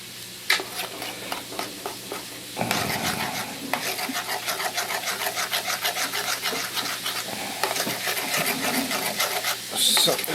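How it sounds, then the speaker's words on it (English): Homemade soap being stirred in a pot on a wood stove, a steady rasping, scraping rhythm of the utensil dragging along the pot, close and continuous for most of the stretch. "I got to give that a stir"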